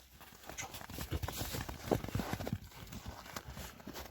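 Hooves of a galloping horse clip-clop in a quick, uneven rhythm, close and moderately loud, with soft background noise and no clear talk.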